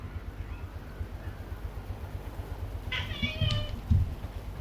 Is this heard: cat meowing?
yes